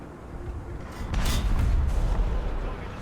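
A single cannon shot from an SU-100 Soviet tank destroyer in War Thunder, a sharp boom with a rumbling tail that lingers for about two seconds over low engine noise.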